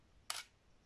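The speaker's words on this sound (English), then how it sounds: "every time we push the shutter, the camera is exposing." A camera shutter fires once on a tripod-mounted camera triggered by cable release, one crisp close mechanical snap in an otherwise quiet setting.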